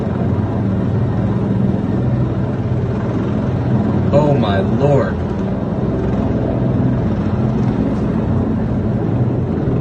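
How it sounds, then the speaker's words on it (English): A U.S. Park Police helicopter landing on the east front of the U.S. Capitol: a steady, droning low rotor and engine roar under continuous loud wind and ambient noise, with a brief shocked exclamation from a voice partway through. "a helicopter landing on the east front of the Capitol. A U.S. Park Police helicopter"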